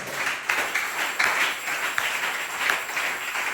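A church congregation applauds during a worship service, with dense, steady clapping from many hands that fills the space evenly and carries a few louder individual claps throughout.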